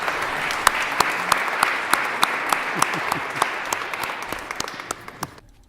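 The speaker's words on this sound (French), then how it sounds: "On l'applaudit, Monsieur André Plourde de Notre-Dame du Por" An audience applauds steadily, many hands clapping in a dense patter that holds for several seconds before tapering off at the end.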